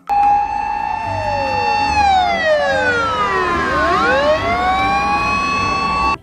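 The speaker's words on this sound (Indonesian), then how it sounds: "Ini mobil pemadam kebakaran" A loud electronic siren wails steadily, then sweeps down and back up, continuing without pause like a toy's speaker.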